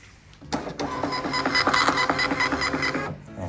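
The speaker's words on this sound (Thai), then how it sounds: "กดปริ้นเนี่ยเดี๋ยวมาดูที่เครื่องพิมพ์นะครับ" A receipt printer on a Windows POS cash register set prints a run of copies, giving a close, rhythmic mechanical whirring and chattering that lasts about three seconds and then stops.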